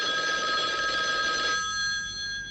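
A man imitates a ringing telephone with his voice, a loud, steady, buzzing trill held for about a second and a half before it fades into a softer hum.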